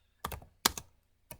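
Keystrokes on a computer keyboard as a Linux command is typed, three separate bursts of clicky taps spread over a second and a half, close and fairly quiet with no voices.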